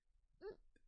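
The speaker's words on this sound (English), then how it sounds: "Oh, hiccup, sorry." A single short hiccup bursts out close and quiet over a faint hum, with a small trailing catch right after it.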